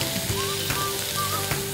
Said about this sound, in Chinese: 跟住要將蒜啦、紅葱啦、姜啦、洋葱去慢慢煎香嘅